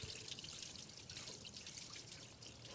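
Water trickling and dribbling out of the strainer on an Eagle 200 sewer jetter while the strainer cap is threaded back in, a steady, fairly faint wet splatter with no talk.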